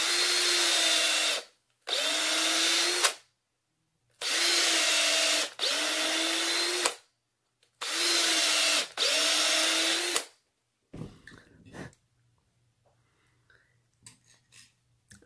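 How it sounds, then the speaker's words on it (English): A power drill bores wire-sized holes in a small wooden block: six steady whirring runs in pairs, each a second or two long, then quiet clicks and handling noises. "you need a drill bit that's going to fit the size of your wire, and then just drill the holes where you want"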